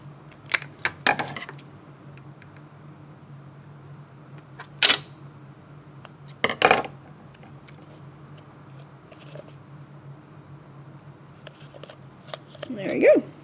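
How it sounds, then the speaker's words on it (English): Scissors snip a small piece of vellum paper in a few sharp, separated cuts, with light paper handling and rustling between them, close and fairly quiet. "I just need to cut a tiny little piece"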